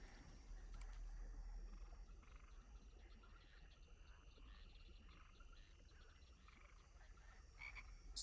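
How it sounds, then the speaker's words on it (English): Swamp night ambience: continuous faint croaking of bullfrogs under a thin high buzz of crickets, steady and distant throughout. "The sounds of the crickets and the bullfrogs, the sounds of the swamp"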